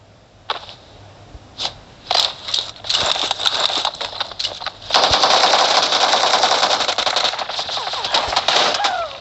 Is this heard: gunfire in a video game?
yes